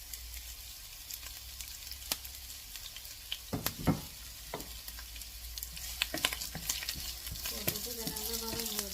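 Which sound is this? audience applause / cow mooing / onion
onion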